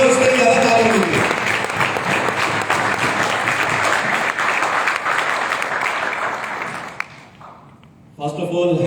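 A live audience at a third anniversary celebration in Bangkok claps loudly and continuously for several seconds before the applause fades out and a voice begins speaking.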